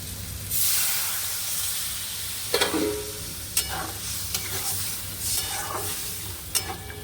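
Water is poured into a pan of sautéed spiced potatoes, raising a loud hiss and sizzle that settles into steady bubbling, with occasional sharp spoon clinks against the pan.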